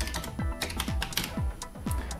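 Short bursts of key presses on a computer keyboard while entering a search term in the Windows 10 taskbar search bar, a brisk irregular clatter of several taps, close and moderately loud.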